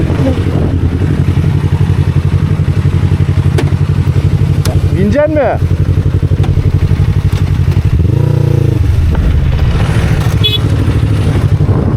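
A motorcycle with a new exhaust rumbles loudly and steadily throughout, with a few rising revs, while people talk nearby over the noise.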